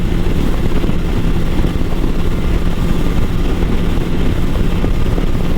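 A 2024 BMW S1000RR motorcycle on a test ride, its engine a loud continuous roar with strong low rumble and wind rush throughout, with no talk over it.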